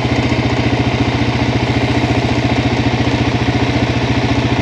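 A Suzuki LTZ 400 sport quad's engine runs close by with a loud, steady, rapidly pulsing mechanical rumble and no voices.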